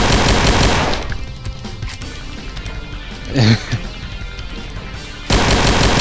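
Loud, heavy pistol fire in Doom with the Final Doomer mod, dense bursts at the start and end with quieter gameplay sounds and a brief thump between them, no speech.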